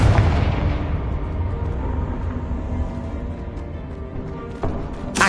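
A heavy, rumbling blast from the Confringo explosive spell in the video game Hogwarts Legacy, loud and sustained with a dense roar that slowly eases off and a second burst near the end.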